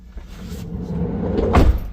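A campervan's side-load sliding door, fitted with smoke grey window pods, rolls along its track and ends in a solid thud as it shuts close by.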